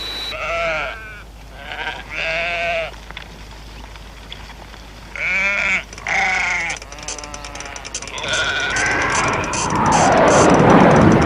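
Sheep bleat loudly and close in several separate bursts, some overlapping, with a rising rushing noise building at the end.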